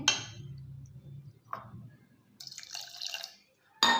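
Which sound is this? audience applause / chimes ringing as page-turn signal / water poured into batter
water poured into batter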